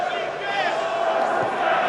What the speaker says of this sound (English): Cries of Mirko ring around the Turon Arena